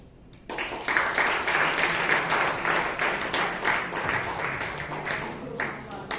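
Sustained applause from a Toastmasters club meeting audience in Bangalore, starting after a brief quiet moment and continuing as dense, even clapping with faint voices mixed in.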